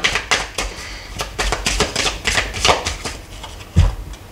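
Cards are drawn one by one for a nine-card reading, giving a run of quick, close, crisp slaps and flicks of cardstock in an uneven tapping rhythm.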